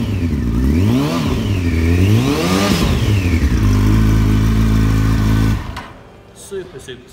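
A 2008 Yamaha FZ1N motorcycle engine fires up and is revved repeatedly, pitch sweeping up and down in smooth surges before settling to a steady loud idle that cuts off near the end.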